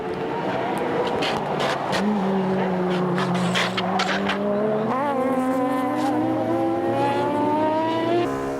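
Tuned race cars, including an Amemiya RX-7, an NSX, an S2000 and an MCR R34, race in a tuner battle. Several engines drone and rise in pitch together as they accelerate, with a brief tyre squeal and a steady loud roar throughout.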